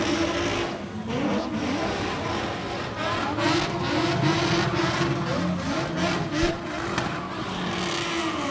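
Hot rod race cars spin on an oval track at a hotrod shootout, a dense loud roar of revving engines and tire noise rising and falling continuously, with a commentator talking over it.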